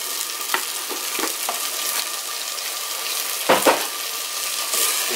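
Tomato paste fries with garlic and ginger in a pot for handi kabab, a steady close sizzle punctuated by a few scraping stirs and a louder splashy burst, with no speech.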